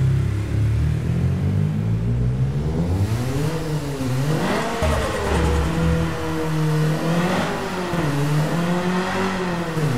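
Stock turbocharged four-cylinder car engine in the racing game Apex Point, loud and steady as it accelerates, pitch climbing and dropping through repeated gear changes with no talk.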